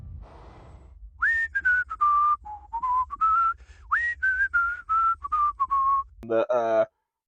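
A person whistles a casual, wandering tune of short sliding notes, close and clear, ending with a brief higher warbling sound.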